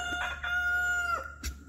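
A rooster crows on a farm where aging hens are kept, one clear drawn-out cock-a-doodle-doo close by with a few short clucks around it and a brief noise at the end.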